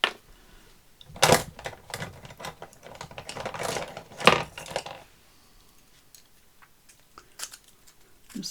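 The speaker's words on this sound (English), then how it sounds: "Sometimes with these little ones it's easier to do it with little sharp scissors." Small sharp scissors snip paper for a journal page: irregular crisp cuts and light rustling up close, clustered in bursts and separated by quiet pauses.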